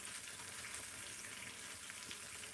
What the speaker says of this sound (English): Now this is going to fry these beans and cheese